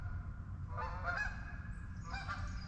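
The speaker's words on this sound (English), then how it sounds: "Well, forgive the geese for a second" A flock of geese flies overhead in a foggy winter morning sky, honking in two loose bursts of layered calls, fairly faint and distant.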